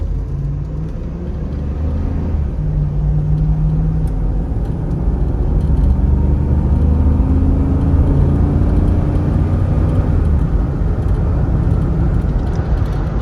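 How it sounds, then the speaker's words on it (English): Chevy Tahoe with a 4L60E 4-speed automatic transmission under light acceleration onto a frontage road: a steady low engine rumble and road roar with gently rising engine tones as it pulls away, heard from inside the cabin with no talking. "I'm gonna go ahead and do a light acceleration onto the frontage road just to show you the health of that 4L60E 4-speed transmission"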